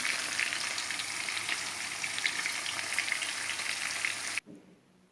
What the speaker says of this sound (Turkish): tereyağımda peynirlerimi, domateslerimi kızarttım